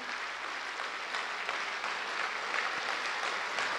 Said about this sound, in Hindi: ऐसी ज़ोर से हम ताली बजाएंगे